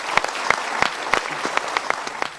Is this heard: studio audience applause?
yes